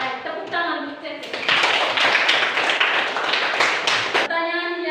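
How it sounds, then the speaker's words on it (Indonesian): Applause for a student named Cece in a classroom teaching session. A group claps in a steady, fairly loud burst lasting about three seconds, with a voice speaking just before and just after. "tepuk tangan untuk Cece"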